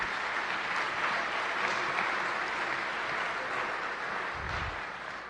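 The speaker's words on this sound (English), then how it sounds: "give yourselves a big round of applause for taking this step" Audience applauding at a new student orientation for an art academy, a steady broad clatter of many hands filling the room, holding even and fading slightly near the end.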